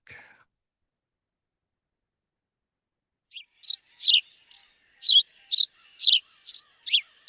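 A brief soft sound at the start, then after a pause a series of about ten sharp sparrow chirps in a steady rhythm, close and fairly loud.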